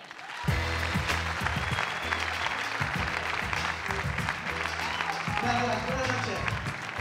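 A comedy club audience applauds comedian Joaquín Meyer at a stand-up contest final in Uruguay, a steady wash of clapping sustained throughout with music or tones underneath.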